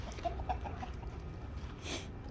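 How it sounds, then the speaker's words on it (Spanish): Hens on a small farm cluck in short, soft bursts at close range, with quiet outdoor ambience between calls and one brief louder rustle near the end. "a mí me da gusto ver esas gallinitas ahí"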